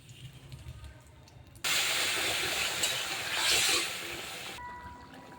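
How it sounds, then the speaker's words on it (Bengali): Taro and koi fish curry poured into a hot tempering of cumin and bay leaves in oil sets off a sudden loud, hissing sizzle that holds for about three seconds, then cuts off. "এবার ফোড়ন দেব, তরকারি ঢেলে দেবো"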